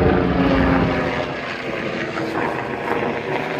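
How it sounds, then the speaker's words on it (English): A police helicopter passing overhead outdoors near a pub, its steady rotor and engine roar filling the whole stretch, loud at first then easing slightly as it drifts on. "That's why the police helicopter came."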